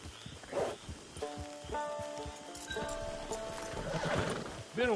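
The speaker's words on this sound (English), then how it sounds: "It's your horse." A horse in Red Dead Redemption 2 whinnies clearly, with steady clip-clop hooves and faint rain-like texture behind.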